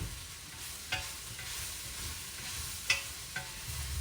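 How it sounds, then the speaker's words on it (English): Peppers and onions being stirred in a pot for chili, a soft continuous scraping with a few sharper clicks of the spoon against the pot around the middle and near the end, close by with no talking. "after I stir up, you know, my peppers and onions, kind of turn that back up"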